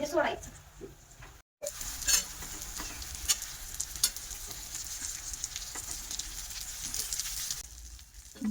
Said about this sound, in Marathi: त्यामध्ये आता आपल्याला हे सोडायचं आहे वांगी. तर एक वांगी भरलेली वांगी सोडायची.